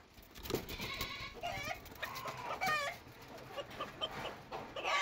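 Ornamental chicken breeds cluck in a bird enclosure: a string of close, repeated clucks and short calls, with other birds and farm animals faintly mixed in.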